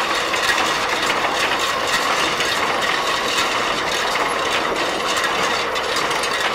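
An MTZ tractor's PTO drives a hay baler outdoors in winter, producing a loud, continuous mechanical clatter and rattling with a rhythmic ratchet-like churning. No one speaks.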